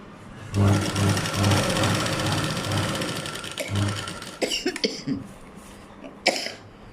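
A sewing machine runs close by in a long steady burst while stitching a 36-inch blouse, then stops. Short clunks and a cough-like sound follow.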